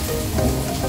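Sizzling frying from food being sautéed in a home kitchen pan, a steady dense crackle close by with no talk.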